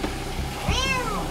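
A kitten trapped at the bottom of a 43-foot water well gives a single faint, echoing meow, drawn out and rising then falling, over a low rumbling background.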